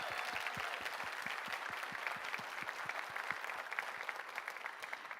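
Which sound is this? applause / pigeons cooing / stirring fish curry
applause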